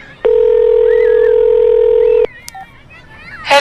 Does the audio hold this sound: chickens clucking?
no